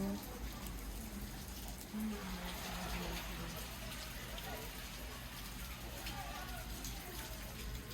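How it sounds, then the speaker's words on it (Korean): Heavy rain pours onto the edge of a tent at a forest bakery in a hanok-style resort, a dense, steady patter and drip close by, with some low background rumble. "천막 끝에 비가 이렇게 와요."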